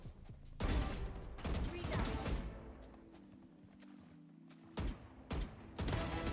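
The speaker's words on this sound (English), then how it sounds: "we are going to practice those 2 bullet bursts" Gunfire in a video game deathmatch, fired in short two-round bursts: several sharp clusters of close shots, with a lull in the middle followed by a few quick bursts, all over a low game background hum.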